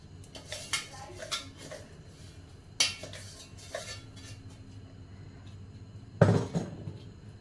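A metal spoon stirring and scraping herbal shampoo ingredients, ground reetha and shikakai, in a kadhai, giving scattered clinks and knocks with a sharper clatter near the end and quiet gaps between.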